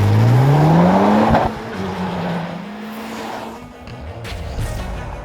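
A 2017 Honda Civic Type R accelerates hard down a drag strip, its engine note climbing steeply and loud for over a second before cutting to a lower, receding drone as the car pulls away into the distance.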